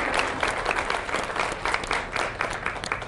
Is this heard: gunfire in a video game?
no